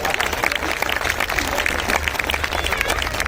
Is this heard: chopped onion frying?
no